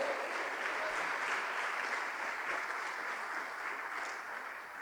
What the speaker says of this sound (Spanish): Dele fuerte las palmas al Todopoderoso.